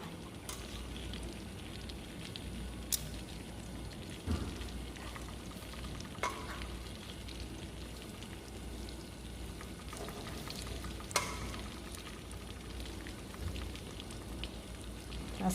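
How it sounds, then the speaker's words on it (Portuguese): Beef sears in very hot butter in a pan, a steady dense sizzle and crackle running throughout with occasional sharper pops and stirring clatters, no voices. "Depois de eu selar essa carne, eu vou retirá-la e vou refogar a cebola"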